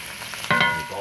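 Butter dropped into a hot iron pan with a rib eye steak hits with a sudden loud sizzle, then settles into a steady crackling fry, close and clear with no talking.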